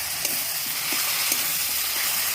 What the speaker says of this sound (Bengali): এবার আমি পরিমাণ মতো একটু হলুদ গুঁড়ো দিয়ে দেবো, একটু নুন দিয়ে দেবো, দিয়ে দেবো নেড়ে নেবো।